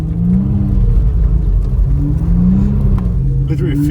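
A turbocharged car engine drones steadily as it climbs a snowy road on spiked winter tires. The low rumble is loud and continuous, with slight rises in pitch, and faint talk sits underneath.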